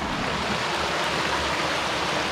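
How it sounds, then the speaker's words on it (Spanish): A small waterfall on a river rushes with a dense, even roar of falling water, close and loud, with no voices. "ya llegué hasta la cascadita."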